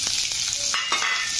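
Chopped onion hits hot oil with cumin seeds in a pan, producing a loud, dense, continuous sizzle with a few brief stirring scrapes.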